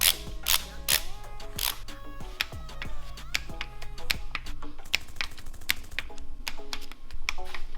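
Head bolts are tightened on a Subaru STI engine, with sharp metallic clicks and ratcheting taps in quick irregular bursts, close by and with no talking.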